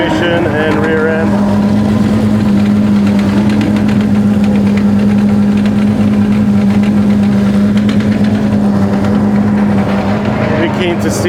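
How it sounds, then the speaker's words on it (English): Porsche 991 Cup race cars idle while warming up their transmissions at Tsukuba, a steady, close engine drone with a strong low hum and a rough, knocking texture throughout, and voices talking over it. "So the 991 Cup cars are warming up the transmission and rear end."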